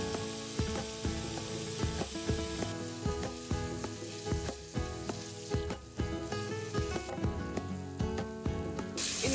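Food crisping in a pan on an induction cooktop at a beachside campground, a steady loud sizzle with repeated scraping and clinking of a utensil stirring, close by with no talk.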